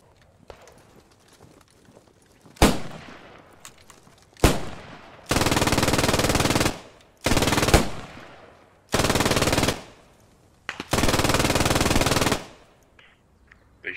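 Machine gun fire in a multiplayer war video game: a couple of single sharp shots, then several loud sustained automatic bursts of one to two seconds each, separated by short pauses.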